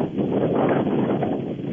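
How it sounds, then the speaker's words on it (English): Wind buffets a phone line from a largely empty chartered ship at sea, a steady loud rushing roar with gusty swells that fills the whole short stretch and no speech. "it's very windy. It's obviously a bad line."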